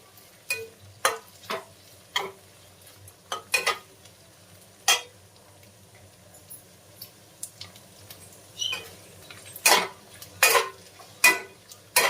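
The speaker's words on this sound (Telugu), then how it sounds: "వంకాయలు అయితే ఎంత ఫ్రై అయితే అంత టేస్ట్ ఉంటుంది అనమాట. డెఫినెట్గా మంచిగా ఫ్రై చేసుకోండి వంకాయలు అయితే." Brinjal slices frying in a pan, with a spatula repeatedly tapping and scraping the metal at an uneven rhythm over a faint background sizzle, close and with no talking.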